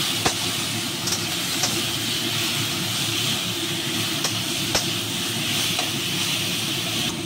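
Leafy greens stir-fried in a pan with garlic tempering, a steady hissing sizzle running throughout, with a few sharp clicks and scrapes as the greens are turned.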